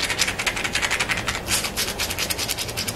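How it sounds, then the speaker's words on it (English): Wet curly hair squished between hands with gel and water, a rapid run of soft squelching, crackling pulses that repeat steadily and close up, with no talking. "now it's time to enhance the texture of your hair by squishing"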